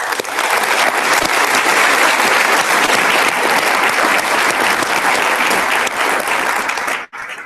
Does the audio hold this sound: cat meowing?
no